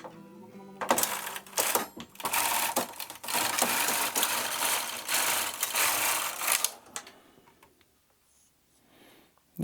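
A Singer knitting machine knits sweater rows, a loud rapid clattering rattle in several long bursts as the carriage sweeps back and forth, then settling into quiet.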